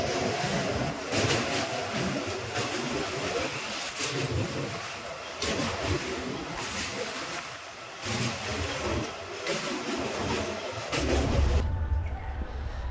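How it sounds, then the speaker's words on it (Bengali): Local train crossing the Kolaghat bridge, heard from on board as a loud continuous rumble with rhythmic clattering surges, ending in a brief deep low boom. "এখন আমাদের ট্রেন কোলাঘাট ব্রিজ ক্রস করছে।"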